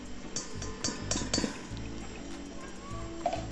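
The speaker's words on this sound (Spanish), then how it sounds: "Vamos a comenzar colocando la leche." Warm milk is poured into a bowl for pizza dough, making soft liquid splashing with a few light glass clinks. The sound is close and quiet, with no talking.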